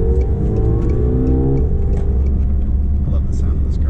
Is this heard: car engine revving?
yes